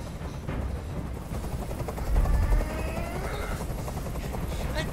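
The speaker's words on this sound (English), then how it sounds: "I can't stand that noise anymore. Tell that helicopter to get out of here." A helicopter hovering in the video game Detroit: Become Human, its rotor chop thudding steadily at a moderate distance, with a brief heavier burst midway and game voices talking over it.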